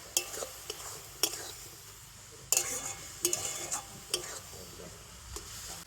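Palm fruit and jaggery filling being stirred in a pan, with soft scraping and tapping of a spoon against the pan at an irregular rhythm over a faint sizzle, close by.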